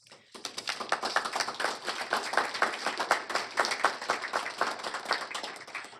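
Room applause at a Cobb County Board of Commissioners meeting honoring crew award winners, many hands clapping steadily at moderate volume for several seconds after a quiet start.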